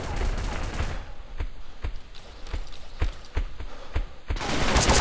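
Gunfire from a weapon in the video game BeGone rings out as a rapid series of loud sharp shots in an uneven burst, with ambient game noise around it.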